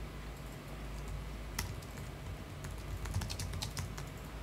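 Typing on a computer keyboard, soft irregular key clicks in quick bursts, faint over a steady low room hum.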